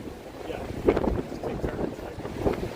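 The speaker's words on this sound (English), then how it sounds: "Sorry about the wind, everybody." Wind buffets the microphone beside Niagara Falls with low rumbling gusts that swell and fade, loud and close, with faint voices mixed in.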